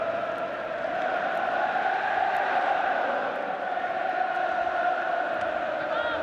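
Football stadium crowd at an England v USSR international, a steady, dense roar of massed voices with chanting tones rising and holding across the whole stretch, loud and sustained without a break.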